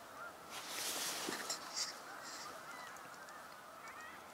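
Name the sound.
geese honking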